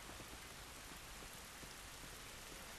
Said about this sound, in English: It's just rain.